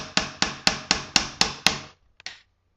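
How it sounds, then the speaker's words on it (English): A hammer strikes a metal wedge driven into a log to split wood, seven sharp, evenly spaced blows ringing close and loud, then a short pause and two lighter taps at the end. "I'm just going to keep hammering away."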